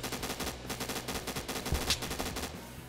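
Rapid automatic gunfire from the Roblox shooter Phantom Forces rattles in quick, evenly spaced bursts, loud and continuous across the few seconds with little pause.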